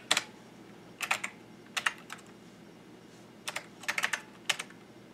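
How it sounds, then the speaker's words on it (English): Bursts of typing on a computer keyboard while entering commands in MS-DOS, quick clusters of clicking keystrokes separated by short pauses, close and fairly quiet with no talking. "we need to type device equals C colon"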